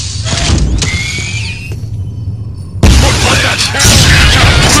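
A grenade explosion in the PS2 video game Killzone, a sudden loud boom midway that cuts over sparse gunfire and a whistling streak, followed by sustained rumbling battle noise.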